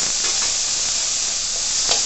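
Tomatoes are added to onions frying in a pan for a Malvani pomfret fish curry, producing a continuous loud sizzling hiss with a few soft bursts of stirring and spattering.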